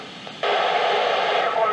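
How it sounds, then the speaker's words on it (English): An amateur radio transmission from the International Space Station comes through on an IC2730 full-duplex transceiver, a faint hiss that jumps into loud, steady static-laden reception after a moment. "What you heard just now is the reception of amateur radio on the International Space Station, known in short as ARISS, being received in my IC2730 full duplex radio"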